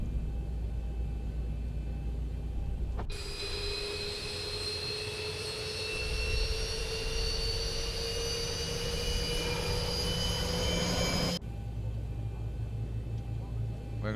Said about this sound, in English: We are starting engine number 2.